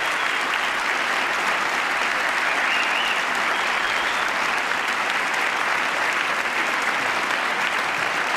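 Sustained applause fills the chamber during a State of the Union address, a dense, unbroken roar of many hands clapping at steady loudness throughout.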